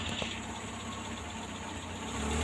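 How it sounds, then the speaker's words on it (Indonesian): A carburetor engine, just started, idles with a low, steady, slightly uneven putter. It is faint and close, with no talk over it. "langsung bisa hidup mesinnya teman-teman ya"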